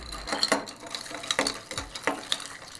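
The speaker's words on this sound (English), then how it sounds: "And I'll stir these 2, get them chilled, diluted." Two mojitos are stirred with ice to chill them, ice cubes clinking and rattling against the glass in quick, irregular strokes, close and fairly soft.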